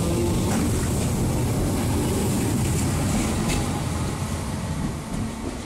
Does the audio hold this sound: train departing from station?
yes